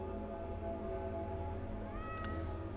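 A cat meows in the video game The Excavation of Hob's Barrow, one short rising cry near the end over a steady hum of game ambience.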